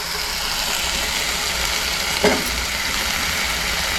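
Potatoes tipped into a pan of onions cooking for a Konkan-style val bean and potato dish, with a steady close sizzle of frying throughout and a brief louder clatter midway as they go in.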